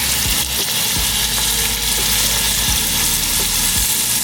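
Onions frying in ghee in a pan, a loud, steady close sizzle with occasional stirring scrapes and no talking.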